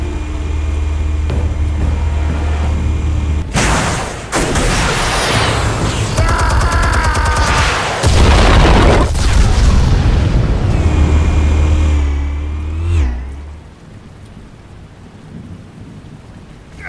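Explosions in Batman: The Telltale Series: heavy, rumbling blasts burst out around the middle, thundering over a steady low drone before it fades into quieter ambience.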